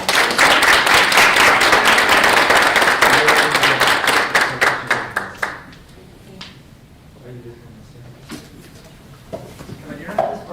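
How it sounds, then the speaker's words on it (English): A town council meeting crowd gives a round of applause, dense clapping that fills the room for about five seconds before thinning into scattered claps and quiet murmuring. "Let's give them a round of applause."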